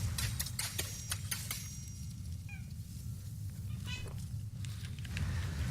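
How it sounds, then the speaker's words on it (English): A house cat meows a couple of times at moderate distance while trying to climb onto a couch beside someone, brief tonal calls rising above a steady low hum of room and game background noise. "the cat was trying to, like, get on the couch right next to me"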